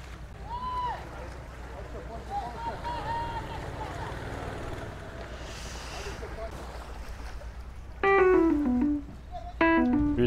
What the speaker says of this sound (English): One more boat.